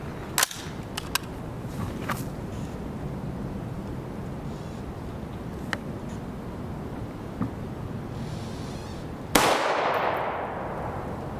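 M855 rifle rounds strike an AR500 Level III steel armor plate, giving several sharp, metallic cracks and clangs spaced a second or more apart, followed by a louder burst near the end.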